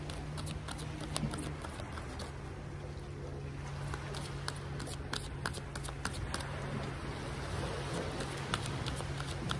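Tarot cards are shuffled by hand in quick, light riffling taps and flicks, repeated in irregular bursts over a continuous low wash of background noise.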